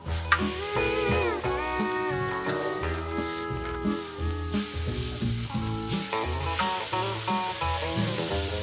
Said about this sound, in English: Only way to cook a steak. Lots of butter and salt and pepper.